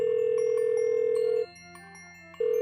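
A telephone dial tone sounds as a steady electronic tone, breaks off for about a second with faint tonal blips, then resumes.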